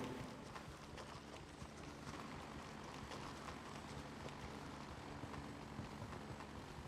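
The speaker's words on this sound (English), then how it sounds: "That's not our chopper." A helicopter flies in the combat shooter game Gray Zone Warfare, its steady rotor thump and engine wash droning continuously at moderate volume throughout.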